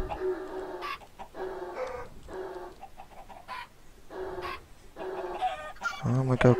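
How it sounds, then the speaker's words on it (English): Chickens in the video game Minecraft cluck in a series of short, rhythmic bursts during a party minigame, with a louder, busier burst at the end. "Flying a chicken."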